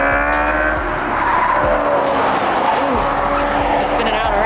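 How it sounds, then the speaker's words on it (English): A race car spins out at the Pikes Peak hill climb, with loud continuous tire skidding and squealing swelling and fading over outdoor ambience; a voice speaks under the noise. "Ooh, spinning out already."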